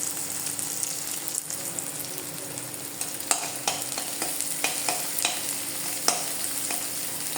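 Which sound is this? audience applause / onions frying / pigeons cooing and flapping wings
onions frying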